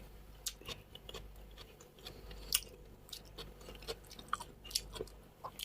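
Pig tail eaten mukbang-style with bagoong, chewed close to the mic in steady wet crunchy bites and smacks, with occasional sharp clicks, no talking.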